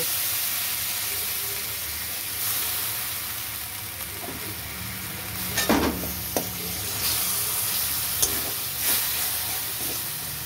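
Boiled tomato frying in a pan with onion, garlic, ginger, salt and turmeric for chorbi ghugni: a steady, even sizzling hiss with a few clinks of stirring.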